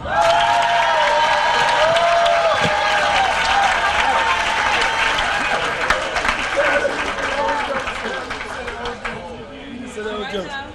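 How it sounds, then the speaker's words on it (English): An audience at an award celebration at East Side Market breaks into loud, sustained applause with cheers and crowd chatter, holding strong for several seconds before slowly thinning out. "I want you all to give a round of applause to Councilman Kevin Conwell."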